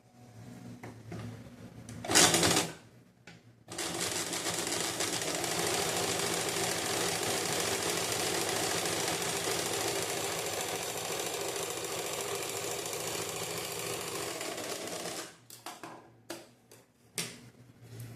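A sewing machine stitches the back piece of a blouse, running in one steady continuous whir for about twelve seconds, with brief starts and stops on either side.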